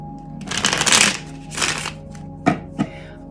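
Tarot cards riffle and rustle loudly in two shuffling bursts, followed by a couple of sharp taps as the deck is squared, close up.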